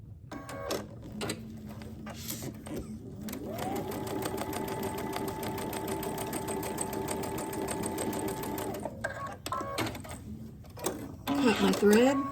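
A sewing machine runs a steady, continuous seam on a fabric door hanger for several seconds, with brief starts and stops before and after.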